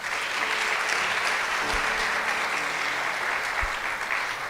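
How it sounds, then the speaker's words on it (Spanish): A church congregation gives a steady, even round of applause during an online service, the clapping filling the hall continuously with a couple of low thumps underneath. "Un aplauso también para Debbie."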